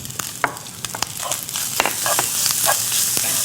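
Ham and kimchi with chopped cheongyang chili stir-fry in a pan, giving a rising sizzle marked by frequent sharp clicks and scrapes of a utensil stirring close by.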